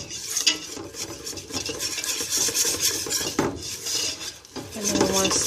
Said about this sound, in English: we're going to use a whisk and, mix this in real well till it becomes really nice and creamy